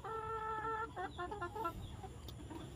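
Hens cluck near a feeding spot on a small backyard farm, several short clucks and a drawn-out call close by over faint background noise.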